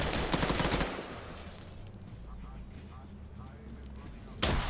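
Rifle fire from a 417 in the video game Arma, a dense burst of sharp shots in the opening second, then quieter rumbling and a few faint distant cracks, with another loud burst at the very end.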